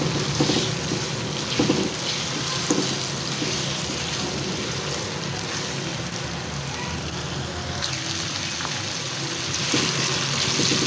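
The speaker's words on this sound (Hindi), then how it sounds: "चिकन भून लेते हैं।" Chicken fries in a pan while making nihari, a dense, loud sizzling crackle that runs continuously with a few sharper pops and clatters along the way.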